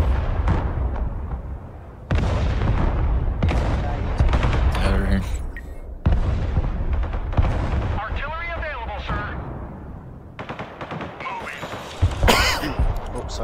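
Artillery fires in the Broken Arrow multiplayer battle game as booming bursts of shots and blasts recur across the stretch, loud and dense, with game effects and talk mixed in.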